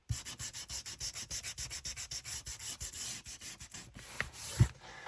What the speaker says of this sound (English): let's sand this bit down